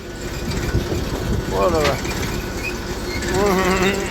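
A small Massey Ferguson 35 tractor engine runs steadily nearby on a farm track, a low continuous rumble with a brief rising tonal whine partway through and again near the end, over rustling outdoor background.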